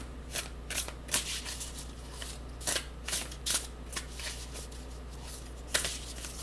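Tarot cards being shuffled by hand, a close, soft run of riffling and slapping bursts at an irregular rhythm over a steady low hum.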